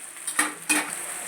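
Bitter gourd and tomato being stirred in a frying pan, two quick scraping strokes over a soft steady sizzle, close and fairly quiet.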